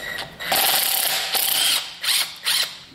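A ratchet works an 11 mm hose clamp loose on a 2011 Ford truck's intercooler plumbing, giving several quick bursts of rapid clicking close to the mic. A longer run comes first, followed by shorter strokes.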